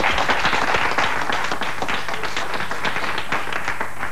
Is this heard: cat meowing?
no